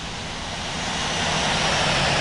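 Airliner taxiing toward the runway at Heathrow in a flight simulator game, a steady broadband jet engine roar that swells slightly louder, continuous and close with no speech.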